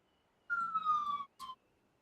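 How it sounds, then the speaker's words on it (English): A police siren from the dinosaur park game Jurassic World Evolution 2 gives one clear gliding wail, then a short second burst. Both are fairly quiet and play alone with no talk. "Hope you're gonna hear some sirens."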